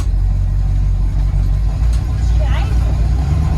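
A 1981 Oldsmobile Delta 88 on the move: a loud, steady engine drone and road rumble heard from inside the car, with voices talking over it.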